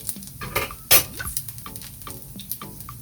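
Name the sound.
salt fish fritters frying in oil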